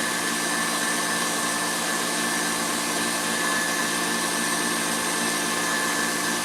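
Stand mixer whipping macaron batter for Italian macarons, a steady loud whirring motor drone with a constant whine, unbroken for the whole stretch and heard on its own.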